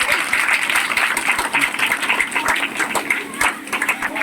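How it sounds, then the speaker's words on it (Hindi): Children clap together at a village ceremony honouring NEET exam candidates, a fairly close round of uneven, rapid hand claps with a few louder individual claps standing out, carrying on steadily. "बच्चे लोग तालियां तो पहले रखेंगे।"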